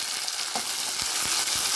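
Onions and tomato frying in a pan, a steady loud sizzle throughout with a few soft stirring scrapes and taps, no voices.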